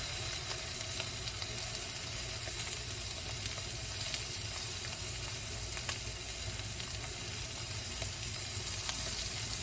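Sirloin steak sizzling and searing in a hot pan, a steady, close frying hiss running throughout with faint crackle and no talking.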